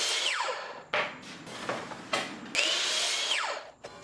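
A power saw cuts wood trim for wainscoting frames in several short, loud bursts, each whining up and winding down with brief gaps between cuts.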